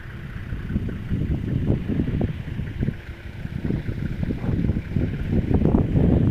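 Gusty wind blows outdoors near a reservoir, buffeting the microphone in continuous low rumbling surges with no voices.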